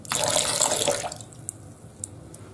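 Water poured off a tallow shaving soap in a tub, a brief bright splash and trickle for about a second, then a quiet room with a few faint drips and small clicks.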